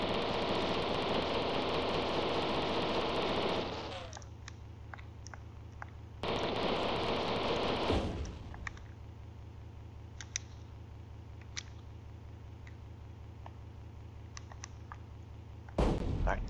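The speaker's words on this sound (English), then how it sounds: "Alright, guess I'm using my machine guns here." A tank's machine gun firing in the video game Super Battletank: War in the Gulf: two loud, sustained bursts of rapid retro gunfire separated by a pause, then scattered, fainter clicks and pops.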